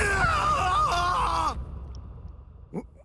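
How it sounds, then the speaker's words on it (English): Scream from a character in the Bleach Rebirth of Souls video game, a loud, strained harmonic cry lasting about a second and a half before cutting off, followed by faint game sounds. "the screams are like too much"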